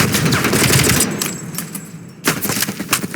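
A heavy machine gun fires rapid, loud bursts of gunfire in the Call of Duty: Black Ops Cold War campaign, pausing briefly before another burst resumes.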